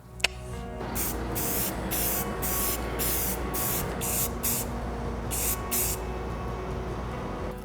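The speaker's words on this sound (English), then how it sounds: "Now I can flail this about and spray paint it" Repeated bursts of spray paint hissing from a can onto a 3D-printed prop blaster, short blasts in an irregular rhythm, close and loud over a constant mechanical drone.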